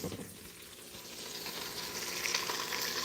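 A pot roast sizzles as it sautés in an Instant Pot. The hiss and crackle run steadily and close by, growing slightly louder toward the end, with no talking.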